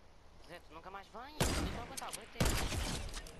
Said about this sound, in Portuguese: Tive que lhe dar dois tiros, não morria.